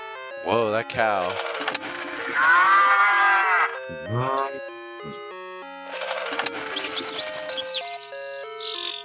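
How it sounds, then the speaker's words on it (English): A battery-powered toy plays a tinny, electronic cow moo, repeated with chiming tones and jingles, loud and close, with brief voices mixed in. "Whoa, that cow."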